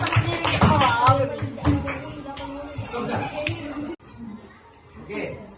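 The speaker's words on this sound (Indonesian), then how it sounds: "Udah, tepuk tangan semuanya." Children in an elementary school classroom clap their hands together after a science lesson on food chains, a loud burst of overlapping claps mixed with kids' chatter that fades into quieter talk.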